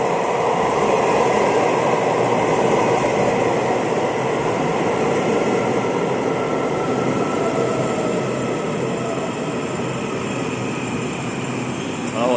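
Blue train at Yuanlin railway station in the early morning, a continuous loud, even rumble and hum of rolling stock close by, holding steady throughout.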